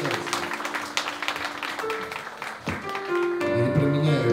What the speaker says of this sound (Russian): Юлия Пак, ваши аплодисменты.